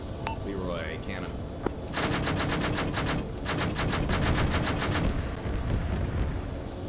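Helicopter cannon fire during a military field exercise, in rapid bursts of closely spaced shots. Two long volleys and a shorter one sound loud and near over steady rotor and engine noise, with brief radio chatter at the start.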